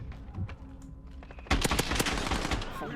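An AA-12 automatic shotgun fires in the Modern Warfare video game: after quieter in-game clatter, a loud, rapid burst of repeated blasts starts at the midpoint and keeps going to the end.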